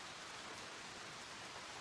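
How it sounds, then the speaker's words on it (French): Heavy rain pours down in a dense, even hiss that fills the whole stretch without a break, steady and enveloping with no voices over it. "Là, il s'est vraiment mis à pleuvoir pour de bon."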